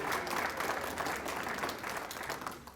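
A town-hall audience applauds a congressman's newborn daughter, a fairly soft, steady round of clapping from a modest crowd lasting a few seconds and tapering off.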